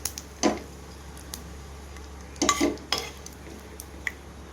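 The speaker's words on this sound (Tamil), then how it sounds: "அதில் அரை ஸ்பூன் மல்லி, அரை ஸ்பூன் சீரகம், அரை ஸ்பூன் குருமிளகு, ஒரு வரமிளகாய் போட்டு லைட்டாக பட்டும் படாமல் வதக்கி எடுத்துக்கலாம்." Coriander, cumin, black pepper and a dried red chili are stirred dry in a pan, with a few quiet scrapes and light metallic clinks of a spoon against the vessel between faint background hum.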